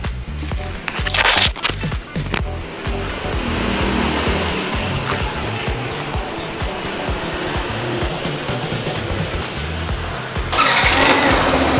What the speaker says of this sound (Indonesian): Kemudian kita tinggal menekan tombol starter sekali, maka motor akan langsung menyala